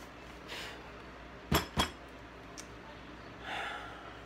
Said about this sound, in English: I'm just shaking for glass